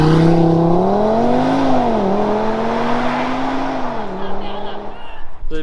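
An Audi TT RS with a 400-horsepower five-cylinder turbo engine launches hard, its loud, close engine note rising in pitch, shifting, and climbing again before easing off.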